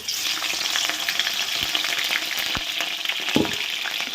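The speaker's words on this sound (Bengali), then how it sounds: "এখন আলু ফুলকপি দিয়ে দেব ভালো করে ভেজে নেব" Cauliflower and potato pieces frying in hot oil give a loud, steady, close sizzle, with a few soft knocks and stirs and no talking.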